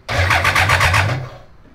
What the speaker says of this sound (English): Gonna tap the starter.